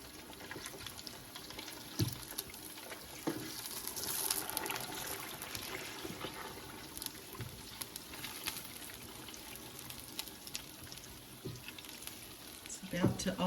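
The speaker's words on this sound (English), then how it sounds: "We'll check on our tallow again, see how it's doing. It is bubbling right along." Beef tallow renders in a pot with faint, continuous bubbling and sizzling, broken by occasional light clinks and taps nearby.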